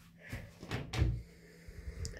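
A wardrobe door in a furnished room is opened, a few soft knocks and a brief creaky thud building to one louder clunk near the middle, then fading into quiet handling noise.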